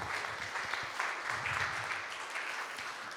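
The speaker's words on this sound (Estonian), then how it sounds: "Ja võite plaksutada küll." Applause from the congregation after a church choir performance at a mission conference closing service, a soft, steady patter of clapping that continues evenly at a moderate distance.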